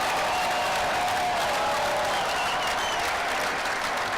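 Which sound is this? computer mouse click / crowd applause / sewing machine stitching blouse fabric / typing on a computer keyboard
crowd applause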